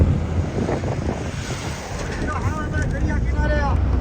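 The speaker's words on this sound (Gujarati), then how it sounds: "જો દરિયો મોજા મારે છે" Sea waves surge and break on the shore near the port in Chennai, a steady rushing roar heavily buffeted by wind, with a faint voice briefly audible toward the end.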